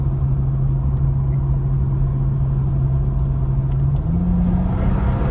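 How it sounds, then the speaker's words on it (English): A tuned all-wheel-drive BMW 435i with over 400 hp on an MHD stage 2 tune pulls hard with wheel spin, its engine a loud steady drone heard from inside the car, rising in pitch near the end. "It's all-wheel drive and the wheels are spinning. Like, I'm getting some good wheel spin from it too."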